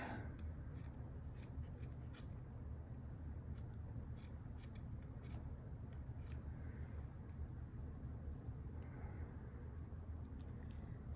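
Scissors snip small pieces of material for a handmade gnome ornament, a steady quiet cutting sound that runs with no talk.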